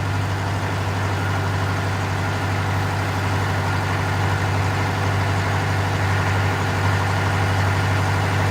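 A car engine idles in a garage while excess fuel on the hot engine burns off, a steady low rumble with a strong droning hum, constant and close with no talk.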